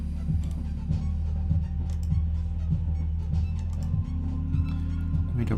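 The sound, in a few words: modular synthesizer live jazz-style jam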